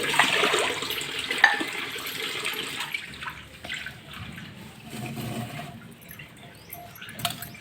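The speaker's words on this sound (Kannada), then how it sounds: "ಈ ಗ್ಲಾಸದ ಒಂದು 2-3 ಗ್ಲಾಸ್ ನೀರು ಪಾಡ್ಕ" Two to three glasses of water are poured into a cooking pot, making a steady splashing, gurgling stream that fades and changes, faint and close, with no voices.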